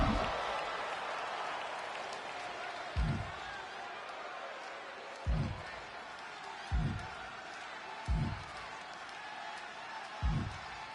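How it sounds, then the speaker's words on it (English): A WWE 2K25 video game arena crowd keeps up a steady wash of cheering and applause, punctuated by six evenly spaced low thuds, with commentary voices over it. "Sounds like this crowd is behind him."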